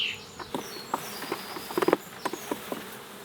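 Honeybees on a spring hive frame shaken during a swarm-season inspection give off a low, steady hum, broken by scattered light taps and patter as the frame is jostled.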